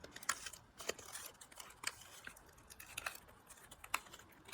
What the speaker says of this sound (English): I'm going to trim this part that juts out because it's going to interfere with our mask